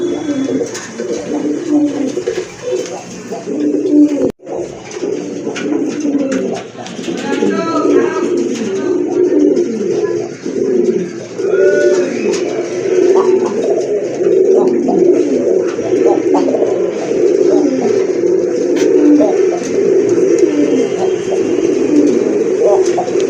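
Rajgolla pigeons coo continuously and loudly up close, a dense overlapping stream of throaty rolling calls, with a short dropout early on.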